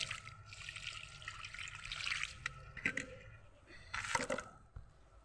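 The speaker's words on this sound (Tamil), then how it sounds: "கொஞ்சம் தண்ணி ஊற்றிக்கலாம்." Water is poured onto a potted rose cutting in soft, quiet trickles and splashes that come in a few short bursts close by, with brief pauses between them.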